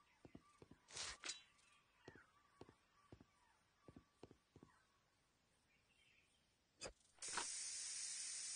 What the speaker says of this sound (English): Then we're going to spray on plaster the inside.